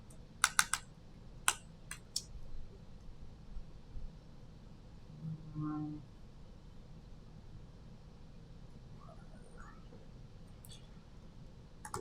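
Computer keyboard clicks from typing, a few sharp bursts of keystrokes early on, then sparse, faint taps over quiet room noise.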